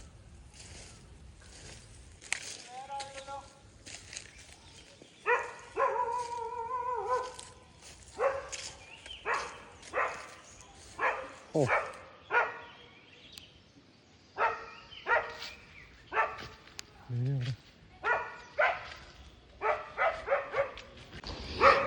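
Two hunting dogs barking in rural Kerala countryside, a run of sharp repeated barks and yips at moderate distance with a few whimpers, some barks overlapping, background hum throughout.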